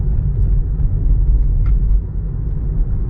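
Car driving along a local road through a township, heard from inside as a steady low rumble of engine and tyres, loud and continuous, with no talking.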